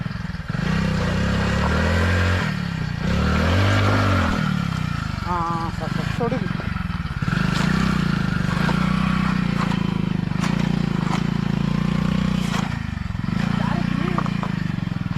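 A motorcycle rides through forest on Nagpuri Betta, a hill known as a bear habitat, its engine holding a steady mid-pitched drone close by while people talk over it.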